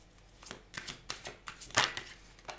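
Tarot cards being shuffled by hand close up: a string of quick, crisp riffling and slapping strokes in an uneven rhythm, fairly quiet, with no talking.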